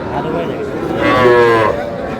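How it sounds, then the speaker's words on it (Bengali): A Sahiwal calf or cow on a farm gives one loud, close, drawn-out moo over quiet background chatter. "মাজারুল ভাই আর দেখান তো গরুগুলো, দেখান তো আমাদের ভালো করে দেখান।"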